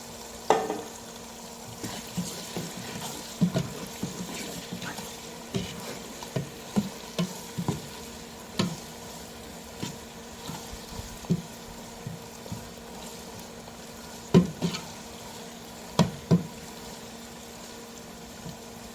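Tomatoes and green chillies frying with browned onions for tinde ki sabzi, a steady sizzle with regular scraping and knocking of a spoon stirring in the pan, close and with no talk.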